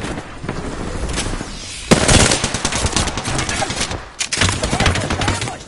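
Heavy automatic gunfire during a squad shootout in a video game, loud sustained bursts with sharp onsets that pause briefly and resume, with faint voices underneath.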